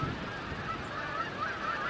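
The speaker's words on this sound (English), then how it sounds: "the Canada geese commuting back and forth are having trouble keeping formation" Several Canada geese honk repeatedly in the distance over a constant rush of wind.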